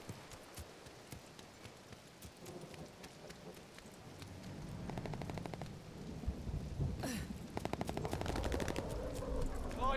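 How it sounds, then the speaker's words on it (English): Gunfire in a late-night video game session, starting as faint scattered shots and building into heavier rapid automatic bursts with a loud blast partway through, set against a steady rumbling background. "Yo, I'm already shooting"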